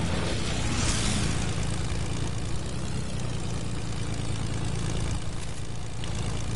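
Propeller airplane engine in a video game, a steady droning hum with a low throb that holds at the same level throughout, continuous and fairly loud with no speech over it.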